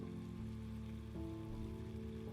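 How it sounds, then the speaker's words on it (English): Gentle rain falls steadily outdoors beside a cottage at night, a soft continuous patter with a low, even hum beneath it and no voices. "The hush of rain made the world feel close and gentle."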